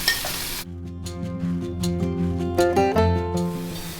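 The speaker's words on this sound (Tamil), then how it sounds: "வெங்காயம் வதங்கிடுது" Chopped onion sautéing in a pan with mustard seeds, urad dal and curry leaves, a soft steady sizzle with light stirring scrapes, heard beneath background music.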